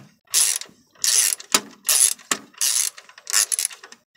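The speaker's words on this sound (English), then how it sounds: "You need a half socket to take them off." A socket ratchet loosening car fuse box fasteners: quick bursts of crisp clicking, about seven separate ratcheting strokes with short pauses between them, close and loud.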